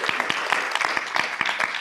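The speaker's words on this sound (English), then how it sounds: "So let's everyone give a big round of applause to Ebis." A live audience at a youth training event applauds for a guest being welcomed to the microphone, a dense steady patter of many hands clapping throughout, moderately loud with a few sharper individual claps standing out.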